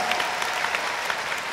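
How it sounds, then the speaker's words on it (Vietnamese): Audience applause at a talk and exchange session with an ambassador, attended by monks, a steady, continuous round of clapping filling the hall with no voices over it. "Và một tràng pháo tay thật lớn nữa để cảm ơn bác."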